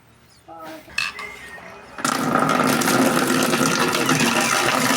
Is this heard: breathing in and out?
no